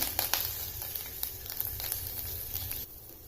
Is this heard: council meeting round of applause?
no